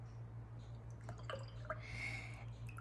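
Small drips and splashes of water added with a brush to a watercolor paint mixture, a few faint wet taps and a brief swish over a low steady hum, no talking.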